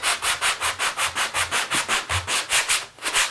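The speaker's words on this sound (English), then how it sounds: "One of these soft sanding blocks is really useful. It does take a layer of paint off" A soft sanding block rubs paint off a studio wall in quick, even strokes, about four per second, a dry scratchy rasp repeating close up.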